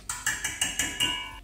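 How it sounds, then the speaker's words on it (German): A whisk beating yeast, sugar and water in a bowl for toast bread dough, six sharp rhythmic clinking strokes about every fifth of a second, close and clear. "Löse das jetzt mit Schneebesen auf."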